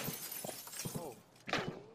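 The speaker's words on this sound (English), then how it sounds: "Shooting through my glass?" Glass shatters from gunfire in Escape from Tarkov on the Customs map near the dorms, a sharp breaking burst near the end following a few soft thuds and faint game noise, with low voices talking quietly.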